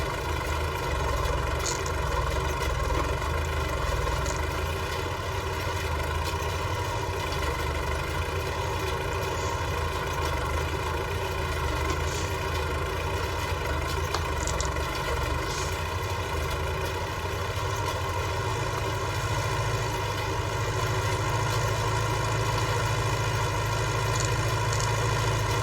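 A tractor engine runs at a steady, unbroken drone while drilling winter wheat in the last field, a constant low rumble with light vibration and no voices.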